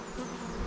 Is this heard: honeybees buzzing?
yes